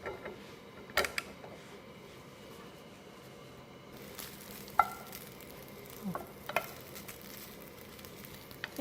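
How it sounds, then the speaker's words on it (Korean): Sausage pieces sizzling in a dry pan with no oil, a quiet steady frying hiss broken by a few sharp clacks of stirring against the pan. "소세지 자체에 좀 기름기가 있으니까 그냥 바로 굽도록 하겠습니다."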